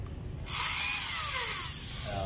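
A power drill spins up abruptly and keeps whirring at a steady high pitch, close and clear, while fitting the head of a homemade fishing spear dart, with faint background noise before it starts.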